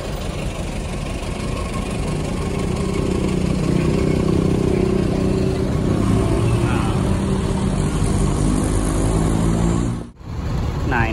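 A Sriwijaya bus on the Palembang–Bengkulu route runs its engine steadily with a low, continuous rumble that builds slightly as it pulls away, then cuts off abruptly near the end.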